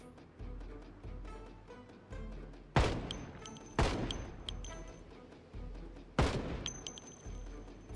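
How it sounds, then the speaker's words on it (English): Gunfire at zombies in Project Zomboid, several loud separate shots spaced a second or so apart, each with a ringing tail, over a steady low background. "Might as well start shooting and see what comes."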